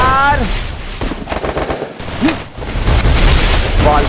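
Rapid automatic gunfire from the Garena Free Fire battle royale game, loud bursts of shots and impacts in a dense, continuous barrage with a headshot among them, game sound effects layered over the shooting.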